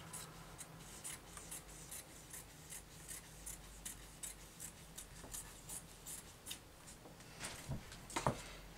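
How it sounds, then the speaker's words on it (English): Scissors cut the back panel of a George lace skirt fabric, with quiet, regular snips and rustles repeating at a steady rhythm, close by and soft. "I'll cut the back panel."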